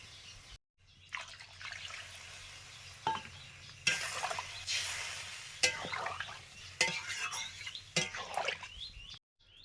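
Vegetable curry with water and cumin-coriander paste just added bubbles and sizzles in a pan, with intermittent stirring scrapes and splashes close by.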